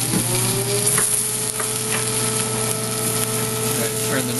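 Pot roast meat browns in a hot pan, giving a continuous loud sizzle and crackle with a steady background hum throughout.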